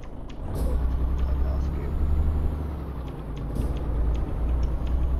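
Heavy truck engine in Euro Truck Simulator 2 on a Peru route, a loud low diesel drone rising under acceleration with brief hissing bursts, and a voice talking over it.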